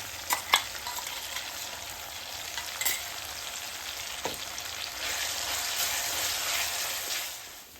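Ground garlic, ginger and green chili masala is stirred in a hot pan for vegetable dum biryani, making a steady hissing sizzle with a few sharp utensil clacks early on.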